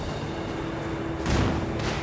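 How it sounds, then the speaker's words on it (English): Cannons fire at the player in the video game Lies of P: one heavy boom bursts out about halfway through, then a rumbling tail over a low ambient game drone. "Shooting cannons at me. Or catapults."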